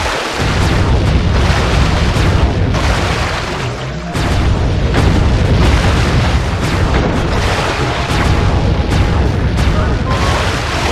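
Cannon fire booms repeatedly and loudly in the Sly 3: Honor Among Thieves video game, a dense, continuous barrage of blasts with a brief lull near the middle.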